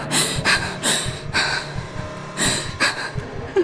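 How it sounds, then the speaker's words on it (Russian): Heavy, rasping breaths from a character in the horror video game Project First Contact, drawn in repeated loud bursts about every half second to second, close and prominent with no talk over them. "Да хватит тебе уже дышать-то так."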